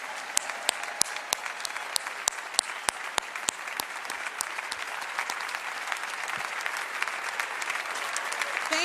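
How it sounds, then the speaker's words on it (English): The audience at the AIPAC Policy Conference in a large hall gives a sustained round of applause. Sharp, distinct claps ring out over a broad wash of clapping that gradually swells. "Can I please hear the House give them a big round of applause?"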